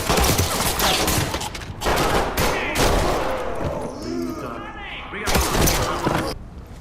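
Loud bursts of rapid automatic gunfire and shots ring out in the tactical shooter Ready or Not on PS5, coming in heavy volleys separated by short lulls, with a shout heard in the mix.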